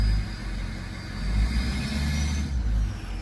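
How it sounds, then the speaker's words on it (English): Steady road and engine rumble from a 2006 6.0 Powerstroke diesel truck cruising along, windows down, with a faint high-pitched turbo whine running over the top throughout. "the windows down, you can hear the turbo."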